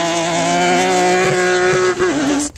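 A car is driven hard on an ice track, its engine holding a loud, steady high-revving drone that dips and wavers briefly near the end as the car slides.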